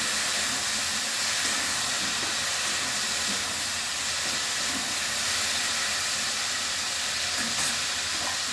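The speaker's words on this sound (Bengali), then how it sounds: "একসঙ্গে কষিয়ে দিচ্ছি" Boiled taro with prawns and slit green chillies sautés in a pan, giving a loud, dense, steady hiss of sizzling that holds evenly throughout with no voice.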